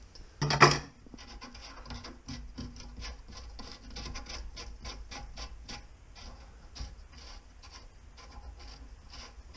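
Pliers work a nut on a low-level toilet pipe, giving a sharp initial clack followed by quiet, irregular scraping and ticking at close range.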